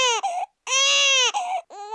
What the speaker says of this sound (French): il fait trop de bruit, ce bébé. Mais pourquoi il pleure?